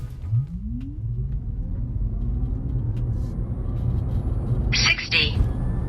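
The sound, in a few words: Tesla Model Y Long Range accelerating in performance test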